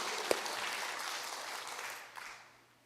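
Applause from a church congregation at a fasting prayer retreat in Gangnam rises as dense, even clapping, holding steady for about two seconds and then fading out.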